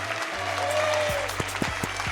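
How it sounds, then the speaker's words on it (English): Recorded applause played back as a sound effect during a morning talk show, a steady wash of clapping with a few sharper claps standing out near the end, moderately loud with a low hum underneath. "Give me a hand clap for Friday, guys, everyone."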